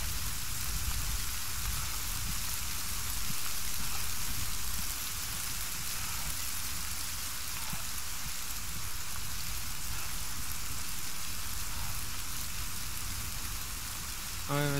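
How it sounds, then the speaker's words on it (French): Steady, dense rain in the video game Arma 3 pours continuously with a constant hiss, close and fairly loud, with no break throughout. "le bruit de la pluie"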